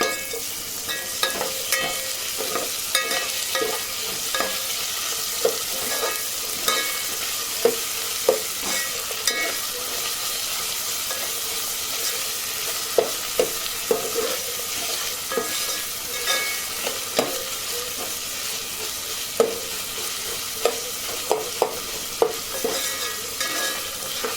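Onions with ginger-garlic paste fry in a pan, giving a constant bright sizzle for a long stretch, punctuated by frequent scraping and tapping stirs of a spoon at an uneven rhythm.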